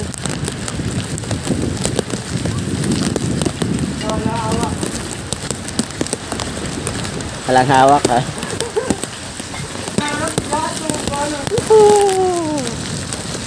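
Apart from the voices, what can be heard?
heavy rain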